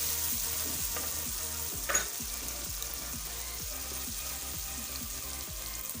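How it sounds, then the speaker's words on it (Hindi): A garlic and ginger paste masala fries in a pan for an egg gravy, with a steady, close sizzle throughout and rhythmic scraping and stirring strokes underneath; no voices are heard. "और अब फिर इसको अच्छे से भूनते हैं।"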